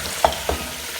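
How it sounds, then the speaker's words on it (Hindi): Beef paya trotters fry in a pan, with steady low sizzling and two brief stirring scrapes close by. "ये देखें इसकी ना खुशबू आ रही है और ये भुन रहा है"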